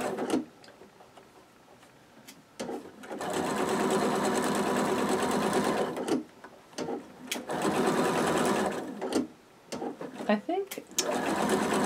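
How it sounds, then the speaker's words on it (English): A sewing machine stitches a quilt block in bursts of steady running, pausing between seams, with a person talking in the breaks. "Okay, so now I'm putting this down, stitching this right down."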